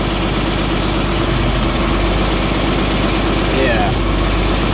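A John Deere 4430 tractor engine runs at a steady idle, a loud continuous low rumble with constant vibration and no breaks.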